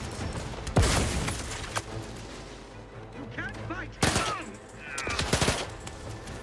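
Heavy shotgun blasts in The Outer Worlds 2: a few loud, widely spaced booms with short decays, mixed with other combat noise and brief talking.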